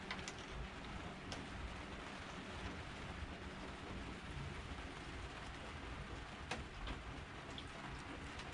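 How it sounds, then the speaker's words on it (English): Steady rain patters softly on a Tartan sailboat, a faint, even hiss with a few sharper drops standing out, no voices. "Well, we're certainly getting some rain."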